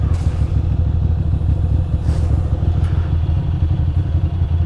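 A Ducati Monster 620 motorcycle engine idling close by, a steady low rumble with a regular throbbing pulse and light mechanical clatter, no speech.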